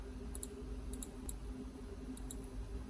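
Crisp computer mouse clicks sound in small groups, mostly quick double clicks, close and distinct over a quiet low room hum.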